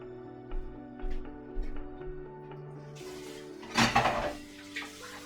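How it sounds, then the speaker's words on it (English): Dishes and cutlery clink and clatter at a sink in short scattered knocks, building to a louder jumble of scraping and rattling near the end, close and with no talking. "Socrates, could you please come do the dishes?"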